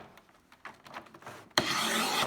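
A hive tool scrapes a wooden beehive frame clean while a deadout hive is processed: light intermittent scratching strokes, then a sudden loud continuous rasping scrape close by in the last second.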